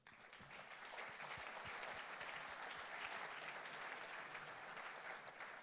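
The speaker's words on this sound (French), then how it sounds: "S'il vous plaît, on les applaudit." An audience at a French business round table on growth and jobs applauds the guests being introduced, a steady, dense burst of many hands clapping that holds evenly throughout before easing slightly at the end.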